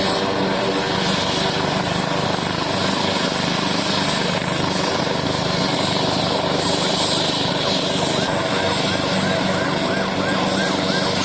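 A medical helicopter runs loud and steady nearby, a continuous droning engine and rotor roar that never lets up, with possible muffled voices buried beneath it.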